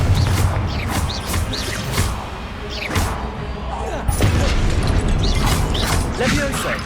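Confringo blasting curse explosions go off in Hogwarts Legacy amid busy combat, with repeated bursts and crackling impacts, a sharp loud hit near the four-second mark, and shouted spell voices mixed in.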